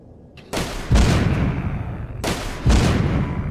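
Gunshots fire in the zombie video game The Walking Zombie 2, heard as two sharp, loud bursts with booming tails spaced about two seconds apart, with no talk over them.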